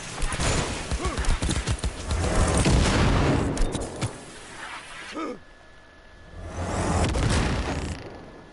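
Grenade blasts in Cyberpunk 2077 combat, a dense run of booming explosions and rattling impacts that swell, drop away briefly and surge again, loud and close in a busy game mix.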